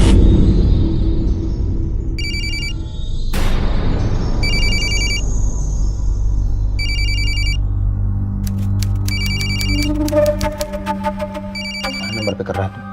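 A telephone rings in repeated short electronic bursts, loud and insistent, over a dramatic crime-show music bed with a heavy boom and rumble partway through.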